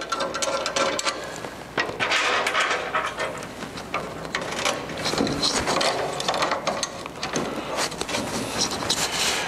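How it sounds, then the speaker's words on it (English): Bolts being fitted into clip nuts on a Jeep JK transmission skid plate, a close run of metallic clicks, taps and short rattling turns, uneven and busy throughout, with no talk. "So let me just put a couple bolts in here just to hold it in place"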